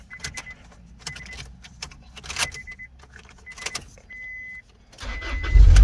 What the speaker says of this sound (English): you can see that it started my car